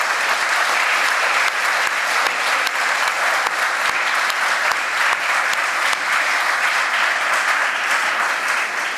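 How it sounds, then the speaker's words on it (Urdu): Church congregation clapping in praise of the Lord during a sermon, with loud, sustained applause from many hands, individual sharp claps standing out across a steady roar. "آئیے تالیاں بجا کر اسے سراہیں۔"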